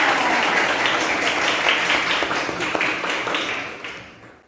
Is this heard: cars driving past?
no